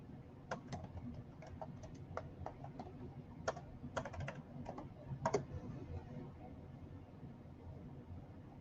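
Typing on a computer keyboard: a quiet run of irregular key clicks, some in quick clusters, over a low background hum, fading out toward the end.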